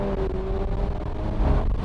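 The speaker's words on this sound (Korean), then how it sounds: "진짜 뭐 말도 안 되는 배기음을 자랑하고요." High-performance SUV in Sport Plus mode accelerating: a steady, deep rumbling exhaust drone heard from inside the car, swelling slightly louder toward the end.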